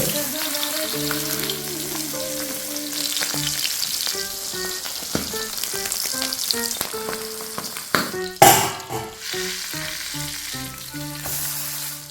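Fish fries in oil with a constant hiss and crackle running under tuneful background music, with a brief louder spatter late on.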